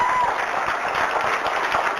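A short burst of audience applause from a live discussion event fills the clip with dense, steady clapping at moderate volume.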